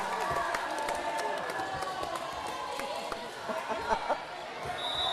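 A packed gym crowd at a high school volleyball match between the Payson Longhorns and Holbrook shouts and clamors continuously at the referee, with ball thumps and squeaks scattered through the steady roar.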